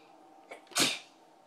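A single sharp sneeze bursts out at close range, preceded by a short intake of breath, in a quiet indoor room at home.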